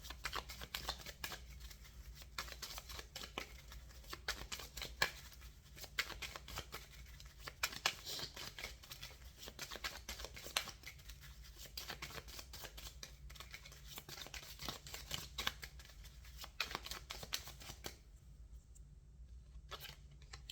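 Tarot cards are shuffled over and over in quick, soft riffling bursts, close and quiet, with no talking.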